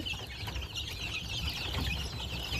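Chickens and roosters of several breeds cluck together on a poultry farm where incubator chicks are hatching, a dense, steady chorus of close clucking with no one speaking.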